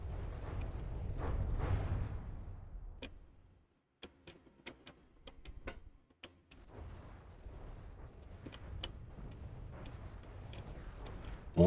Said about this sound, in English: More shots at the propellers,